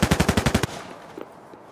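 Automatic gunfire in the first-person shooter Project L33t: a quick burst of about eight evenly spaced, punchy shots lasting under a second, then a fading tail and a couple of faint clicks.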